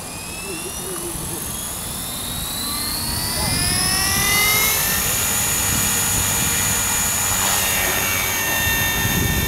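A Forza 450 RC helicopter flies outdoors with a loud, steady high-pitched whine from its rotor and motor that rises in pitch as it climbs and holds near and strong throughout.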